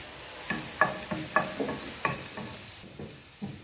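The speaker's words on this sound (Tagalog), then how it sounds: "Igisa natin muna yung" Garlic sautés in olive oil in a pan, a faint, soft sizzle under a series of light, regular spatula strokes and taps, each a short scrape close by; no voices.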